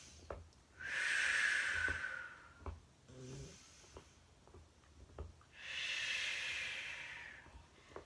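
Two long, deep breaths drawn and released slowly during a sciatica relief stretch, each a soft airy rush lasting about a second or more, close and calm, with faint clicks between them and no talking.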